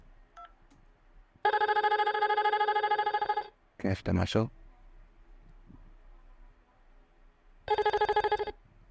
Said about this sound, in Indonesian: Sekarang kita coba telepon dari number 100 ke 102.